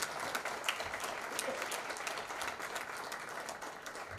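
An audience at a music launch event in India applauds, steady and continuous clapping spread across the room at moderate distance, sustained without break and with no speech over it.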